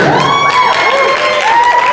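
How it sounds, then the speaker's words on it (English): Crowd cheering and shouting at a Kaishin Dojo martial arts demonstration at an anime convention, a short burst of voices and whoops close by, mixed with high-pitched yells. "You guys can cheer"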